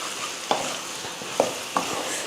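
Mutton varuval being stirred in a pan on a low flame, a steady soft sizzle broken by three sharp scrapes of the spoon against the pan, close and alone with no talk.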